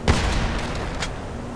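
A single heavy gunshot fired in Grand Theft Auto V, a loud close crack with a boomy tail that rings out and fades over about a second.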